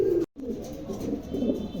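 A female pigeon's low, throaty cooing at a pigeon showroom, repeated soft burbling calls close by with a brief gap near the start, no voices.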